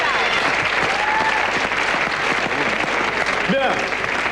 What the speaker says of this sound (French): J'aimerais qu'on l'applaudisse avant, parce qu'on n'est pas sûr de pouvoir le faire après.